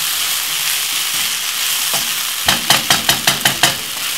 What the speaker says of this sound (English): So roughly fry this for about 5 to 6 more minutes.